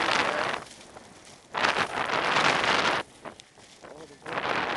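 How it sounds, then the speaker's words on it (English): Wind roars in gusts during a snowstorm in Alaska, buffeting the microphone in loud, broad bursts that drop away briefly between blasts. "All the wind, snow, everywhere."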